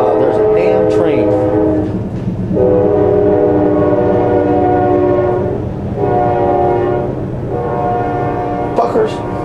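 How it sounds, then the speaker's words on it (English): A train passes close by, its horn blowing in several long, loud blasts over the heavy rumble and clatter of the rail cars. "there's a damn train"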